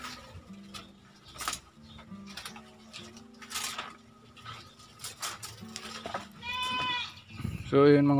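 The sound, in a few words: goats bleating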